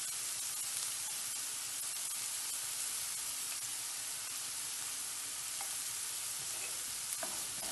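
Onion and garlic sauté in a pan for a Greek moussaka, giving a steady, close, even sizzle and hiss with faint stirring scrapes throughout and no talking.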